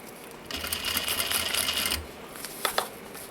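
A sewing machine stitches a recycled denim pouch near a zipper tab: one short burst of fast whirring stitches, then quiet with a few small clicks.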